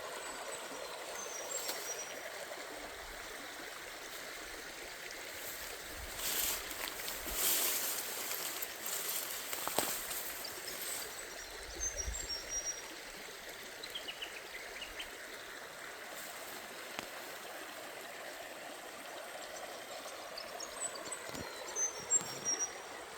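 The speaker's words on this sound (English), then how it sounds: "Beautiful river." A river in Monga National Park flows steadily with a soft, continuous watery rush, moderate and close, with a few brief louder splashes and swells; no talking.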